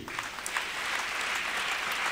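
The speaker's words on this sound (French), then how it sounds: "on nous applaudit mon Dieu" Church congregation at a Baptist service in Haiti applauding, a steady wash of many hands clapping at moderate distance, continuous and even throughout.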